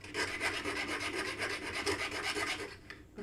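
A hand file rasps back and forth over a small imperfection in a cut piece, a quick, even rhythm of scraping strokes close up that stops near the end.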